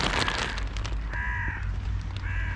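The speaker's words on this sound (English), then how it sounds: "Here come a couple gulls." Gulls give two drawn-out, harsh calls in the morning open air, one near the middle and another near the end, over steady rumbling background noise.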